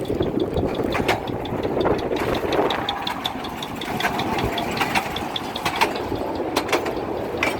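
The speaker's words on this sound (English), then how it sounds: "that's the train." A steady mechanical train engine rumble runs throughout, with rhythmic ticking and knocking over a constant low hum, moderately loud and unbroken, in Mumbai.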